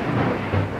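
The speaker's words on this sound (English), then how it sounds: "there's a thunderstorm going on" Thunder rumbles through a thunderstorm, a loud, low, continuous roll filling the short moment with steady rain-like noise and no voices.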